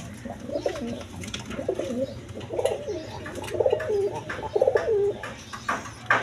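High-flying Giribaz pigeons coo loudly and steadily, their repeated throaty calls close by and overlapping, with no talk.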